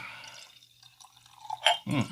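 Campbeltown Loch blended malt Scotch whisky, 46%, is poured into a glass, with a short liquid trickle and a few splashing glugs close by.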